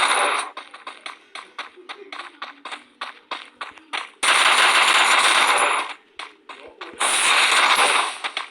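Rapid gunfire in the Free Fire video game, with quick single shots first, then two long loud sustained bursts, and a voice talking in between.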